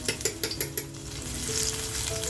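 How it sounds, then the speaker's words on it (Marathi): Crushed garlic hits hot oil in a pan: a few sharp clinks and taps up front, then a steady sizzle that swells and settles, close and fairly quiet. "तेल बघा छान तापल्यानंतर ठेचून घेतलेली लसूण आपल्याला टाकून घ्यायची याच्यामध्ये."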